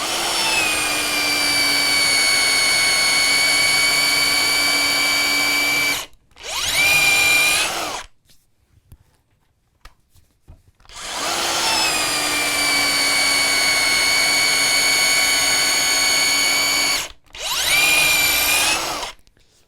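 DeWalt DCD130 cordless mixing drill boring through wood, two long high-pitched whining runs each followed by a brief pitch-shifted burst, separated by a short near-silent pause, loud and close.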